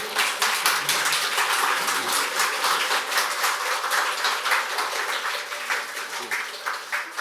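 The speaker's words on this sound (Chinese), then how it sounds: "让我们用热烈的掌声再一次感谢堪布的演讲" An audience at a lecture at Tsinghua Science Park applauds after the talk, with dense, sustained clapping from a sizable crowd that continues steadily throughout.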